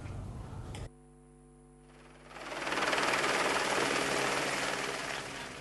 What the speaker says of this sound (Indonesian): upaya pemadaman kebakaran lahan di Riau juga melibatkan sejumlah helikopter yang melakukan waterbombing dari udara